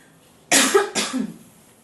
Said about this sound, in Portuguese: a tosse voltou